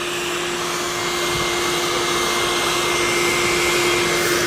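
A vacuum system runs with strong airflow spinning powdery material, producing a loud, steady roaring hiss with a constant tonal hum, close and uninterrupted, with no talk.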